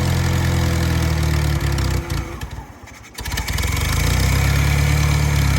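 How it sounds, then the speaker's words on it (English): Barn-find Farmall 140 tractor engine running on choke with a badly plugged carburetor, a loud, steady, rough idle close by that dips and stumbles for a moment midway before picking back up. "it's only running with the choke on"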